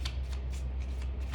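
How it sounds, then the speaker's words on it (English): Tarot cards shuffled by hand, a quick riffling flutter of card edges in a few short bursts, close and fairly soft, with no talking. "I shuffle the cards in front of you"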